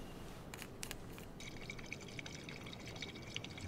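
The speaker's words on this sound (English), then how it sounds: "Fill up our water bottles." Water pours into canteens in Life is Strange 2, a faint trickling, gurgling stream with a few brief splashy bursts at the start, quiet and continuous, with no talking.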